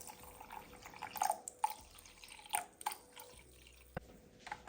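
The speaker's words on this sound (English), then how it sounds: "I'm going to add 270 ml of just lukewarm water goes in" Lukewarm water poured into a small jug holding soft brown sugar in a home kitchen, heard as quiet irregular drips and splashes over faint background hiss.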